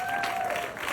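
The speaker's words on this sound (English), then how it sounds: "let's give a clap to all the physicians who came out today." Audience clapping for physicians at a campaign event in Iowa, a steady burst of applause from a crowd filling the whole moment, with a faint tonal whistle over it.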